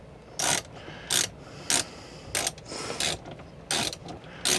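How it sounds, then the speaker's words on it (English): A ratchet works loose Torx T30 screws on a Ford Bronco, with rapid clicking bursts repeating about every half second, close and loud with brief pauses between strokes. "The screws aren't going to remove themselves. So they are Torx T30s or TP30s if you want."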